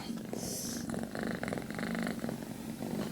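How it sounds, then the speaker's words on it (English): A cat purrs steadily and close by, a continuous low rumbling throb lasting the whole stretch with no talking over it. "and that's the cat."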